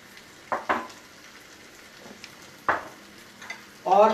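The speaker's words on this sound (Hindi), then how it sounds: "यहाँ पे हम डालेंगे हमारा पनीर जो हमने क्रम्बल किया था" Crumbled Amul paneer goes into a pan of pasta sauce, giving a few soft stirring scrapes and brief sizzling bursts, with a louder stir at the very end; close by and without talk.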